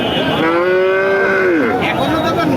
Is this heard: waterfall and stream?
no